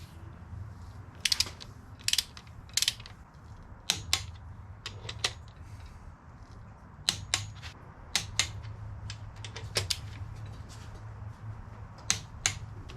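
Torque wrench tightening ARP 2000 connecting rod bolts on H-beam rods in a Honda B18 engine build: a series of sharp, close metallic clicks in uneven bursts over a low hum, with no talk.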